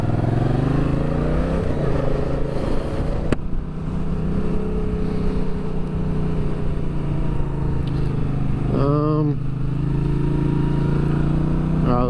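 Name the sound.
motorcycle riding on a foggy road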